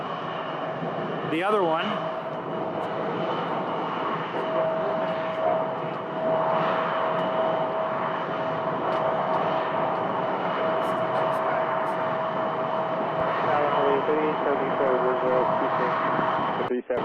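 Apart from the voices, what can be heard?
SkyWest CRJ jet arriving at Phoenix Sky Harbor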